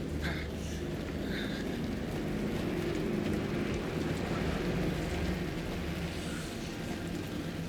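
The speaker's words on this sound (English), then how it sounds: "Rainy forest? Hell yeah." Steady rain falls through a forest in Alan Wake 2, a dense, even hiss with low rumbling underneath that holds at the same level throughout, with no voices.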